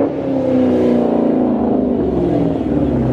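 A 2020 Dodge Charger SRT Hellcat Widebody engine revs loud and close in one steady, throaty drone with a rich rumble, and no voices over it.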